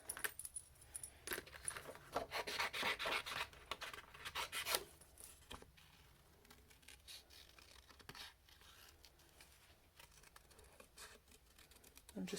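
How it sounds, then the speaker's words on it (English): Scissors snip through stamped cardstock in a papercraft project, following the outline to leave a narrow border; close, crisp cutting and rustling paper with short pauses, no talking. "So just cut both of those out."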